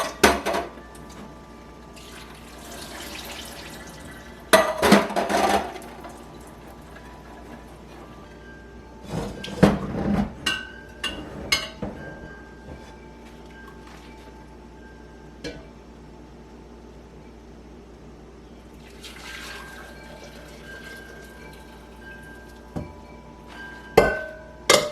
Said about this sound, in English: Now let's drain these green beans.